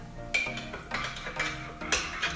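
A spoon stirs a dairy-free turmeric golden milk with coconut milk in a cup, giving repeated light clinks and taps against the side at a steady rhythm, close and fairly quiet.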